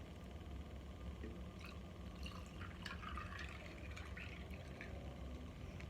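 Kava is poured into a glass already holding ice, giving a faint, quiet trickle with a few light clinks and splashes over a low background hum.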